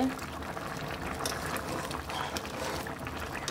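Vegetarian mixed-vegetable curry simmering in a pot, a steady close bubbling and sizzling texture that runs throughout with faint background noise.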